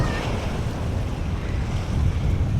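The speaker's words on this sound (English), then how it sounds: "You see how rough the ocean is?" Rough surf and crashing waves churned up by high winds off Kudarikilu island resort in Baa Atoll, Maldives, a steady loud roar of water with heavy wind buffeting the microphone throughout.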